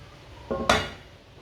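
Egg and chili curry is served onto a plate: two quick close metallic clinks of a utensil against dishware, the second louder, then a short fading ring in a quiet room.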